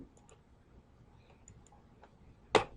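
A single sharp computer mouse click, close and crisp, follows a quiet stretch of faint room tone during a pre-algebra class syllabus lecture.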